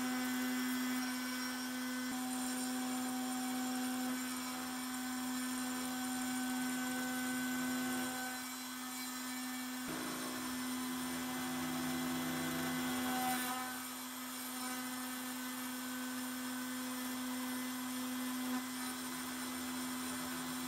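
A Genmitsu 4030 PROVerXL V2 CNC wood router spindle mills shallow slots in wood at a low speed setting, giving a steady, loud, continuous whine with a slight dip and brief scraping swell partway through.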